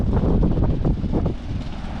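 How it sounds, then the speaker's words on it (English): Outdoor wind blows steadily across the microphone, a low, continuous rumbling buffet that swells and eases slightly over two seconds with no talking. "Ooh, it's windy too."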